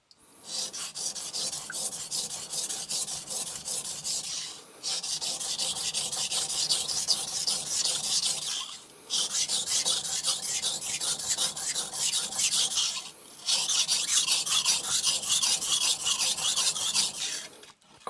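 An Aogami 2 steel Hatsukokoro Kurogane bunka knife being thinned on a coarse Shapton Glass 220 whetstone, four long bursts of loud gritty rasping strokes separated by brief pauses, with no talking.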